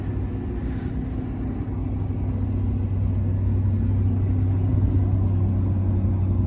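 A 1990 Ford F150 XLT Lariat 4x4 pickup engine running at a steady idle, a low continuous rumble close by with no talk.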